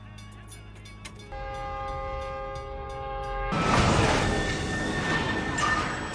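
A train sounds a sustained horn, then a sudden loud, roaring crash of noise erupts as it strikes a car and keeps rumbling close by.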